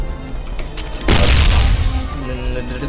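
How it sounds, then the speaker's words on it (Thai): A single loud explosion bursts about a second in during video game play, a sudden heavy boom that fades into a lingering rumble. "ว่าระเบิดไปแล้ว"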